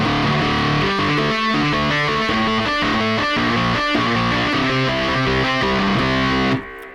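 A heavily distorted synthesized guitar preset from Omnisphere 2 plays a steady, sustained riff of chords and notes, loud and continuous, then cuts off abruptly at the end.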